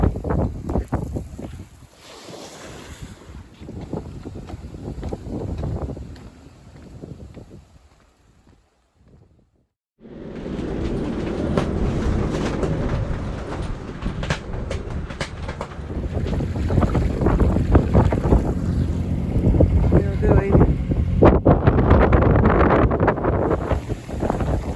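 A sailboat runs downwind off the Mistral coast of Sardinia in a 20 to 22 knot following wind with no sail up, its hull rushing through water while strong wind buffets the microphone, fading briefly before surging back loud and steady.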